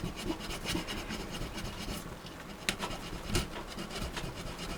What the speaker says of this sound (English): But I am sanding on these now